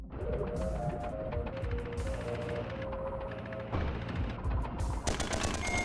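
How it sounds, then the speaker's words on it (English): Rapid bursts of video game gunfire rattle in quick succession over a humming background. Several sustained volleys are separated by short pauses, and the shots are loud and close. "Oh, you're shooting at me."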